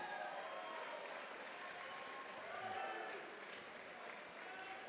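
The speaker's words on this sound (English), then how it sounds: "let's get a nice round of applause out here for both of these fighters" A ballroom crowd at a boxing match applauds faintly and distantly, with scattered murmuring and voices mixed into the clapping.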